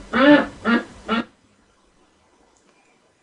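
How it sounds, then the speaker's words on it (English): A duck quacks three times in quick succession, close and clear, followed by near silence. "Duck."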